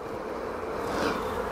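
Honeybees swarm and hum in an open hive during a spring inspection, a steady close buzz filling the whole stretch with no talk over it.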